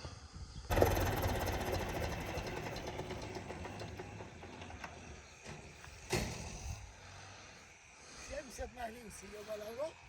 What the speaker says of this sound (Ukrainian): зараз їде трактор, їде бочка з водою